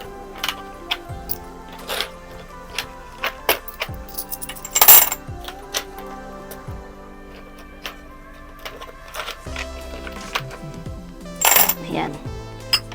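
Coins dropped one after another into a jar for a prosperity bowl, producing a series of sharp metallic clinks and chinks at irregular intervals, with a couple of louder jangling drops standing out.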